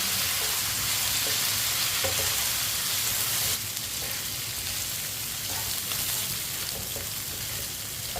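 Potatoes fry in a pan while a spoon stirs them, giving a steady, close sizzle with faint scraping taps running through it. The sizzle drops a little in level about halfway through.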